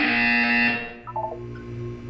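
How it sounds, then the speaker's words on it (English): A harsh, distorted electronic buzzer in the game Portal 2 blares for under a second, then fades into a few short synthetic blips over a low hum. "You will hear a buzzer. When you hear the buzzer, look up at the ceiling."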